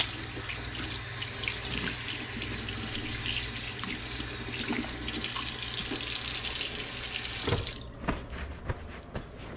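Tap water runs steadily into a sink while hands are washed with soap, a close, continuous splashing rush that cuts off near the end, followed by a few faint clinks.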